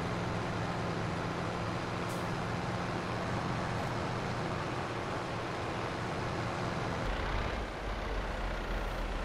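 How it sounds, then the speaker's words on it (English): John Deere tractor driving in a farming video game, a steady low engine drone with road-like rumble running continuously, shifting to a deeper, heavier hum near the end. "So I drove over there with the John Deere so we can load them up into the transport box."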